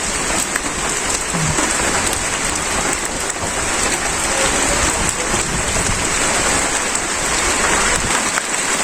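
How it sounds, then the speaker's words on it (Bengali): Steady, heavy rain falls on an open village cooking area in Bangladesh, a dense, continuous hiss with light gusts of wind that never lets up, and no voices. "বৃষ্টি নামছে বন্ধুরা, দেখেন এই যে বৃষ্টি নামছে।"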